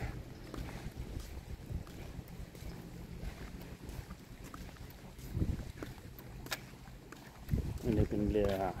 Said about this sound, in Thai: อันนี้เป็นเรือขนถ่ายสินค้าครับที่จะข้ามฝั่ง